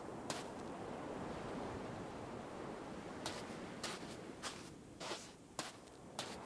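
Gentle ocean surf from the XING The Land Beyond VR game, a faint continuous wash of waves broken by a few soft, sharp clicks, with no voices.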